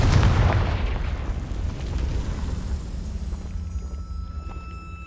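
The Confringo blasting spell in Hogwarts Legacy goes off as a single loud, close explosion with a heavy boom at the start, then a long rumbling decay that fades over several seconds.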